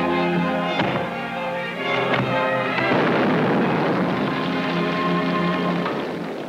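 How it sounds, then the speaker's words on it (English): An explosion set off by a trap in a 1944 adventure serial: a loud, sustained blast with several sharp bursts and crackling debris that rumbles on for several seconds, with no talk over it. "That explosion was meant for us."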